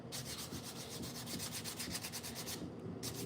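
Hand sanding a natural wooden slingshot, a steady run of quick back-and-forth rasping strokes, close and fairly quiet, with a brief pause near the end before the rubbing resumes.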